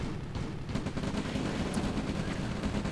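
A real-time strategy battle as rocket troopers and flame towers deploy against an enemy base, heard as a dense, continuous roar of rapid gunfire and explosions that holds steady and fairly loud throughout, with no voices.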